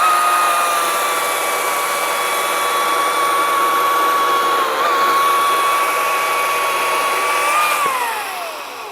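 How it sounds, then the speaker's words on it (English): A 56-volt EGO 20-inch cordless chainsaw runs loud and steady as it cuts through a 12-inch-diameter log, holding a high electric whine before the pitch drops near the end as the cut finishes and the saw slows. No one speaks. "The Ego cuts really quick."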